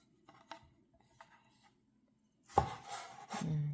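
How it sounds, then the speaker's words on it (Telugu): A knife slits tomatoes on a board, with a few light faint taps early on, then louder, denser cutting and rubbing sounds close by toward the end, and no voices. "టొమాటో కూడా పేస్ట్లోకే, సో ఎక్కువ అవసరం లేదు, జస్ట్ అలా స్లిట్ చేయి."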